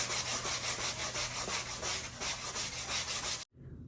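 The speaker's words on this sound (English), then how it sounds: "I sanded my wooden pieces where they were cut for a smooth finish." Cut wooden pieces being hand-sanded for a smooth finish, a close, steady rhythmic scratching rub of abrasive on wood that stops abruptly near the end.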